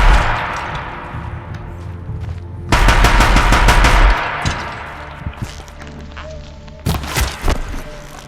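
Deathbringer gun firing in the video game Horizon Zero Dawn, loud bursts of rapid automatic fire with heavy thuds, a sustained volley in the middle and another short burst near the end.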